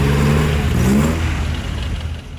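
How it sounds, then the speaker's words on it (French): Historic vintage cars on a road rally through town streets in freezing dry weather, a loud, close engine note revving and passing, fading slightly as it moves away. "apprécier le bruit et les courbes de ces automobiles historiques"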